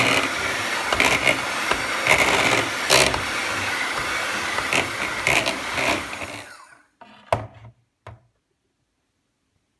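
An electric hand beater whisks vegan gluten-free buttercream of vegan fat spread and icing sugar, a loud steady whirring drone with small bumps that cuts off abruptly, followed by a few sharp clinks and knocks, then silence.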